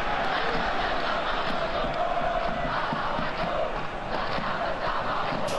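Stadium crowd ambience in a football video game of an Indonesian Liga 2 match, PSPS Pekanbaru versus Persikabo 1973, a steady dense roar of fans throughout with no clear words.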